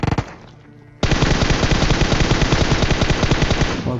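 An M4 rifle in PUBG Mobile fires a few quick shots, pauses for a moment, then lets loose a long, loud, rapid automatic burst that continues unbroken to the end.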